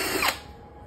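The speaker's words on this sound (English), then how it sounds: "I can remove that ground bar, drill all the way through." Power drill bit cutting through a metal subpanel can, a brief high whir that peaks and then fades quickly.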